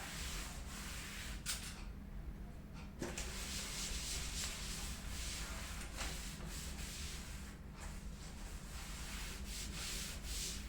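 Steady, close, continuous rubbing of a board surface being wiped clean, a dense even scrubbing texture that runs throughout with only brief shifts in stroke.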